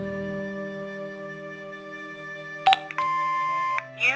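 Electronic beeps from an answering machine in the video game Broken Sword 5, starting over a steady musical hum with a short tone burst and a longer sustained beep, ending in a brief warble.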